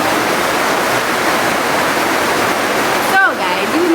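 Heavy rain pouring outside: a loud, steady broadband hiss of falling water throughout, with a short electronic chirp and tone near the end.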